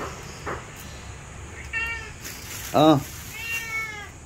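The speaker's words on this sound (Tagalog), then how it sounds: "Talagang pusa na to guys" A cat meows several times up close, with short, rising calls in a quiet room and one louder, more insistent meow in the middle.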